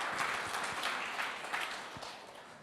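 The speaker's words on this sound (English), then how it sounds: "So a round of applause," Audience applause for panellists at a rock fishing drowning prevention evening, a fairly faint, steady patter of clapping from a modest crowd across the whole stretch.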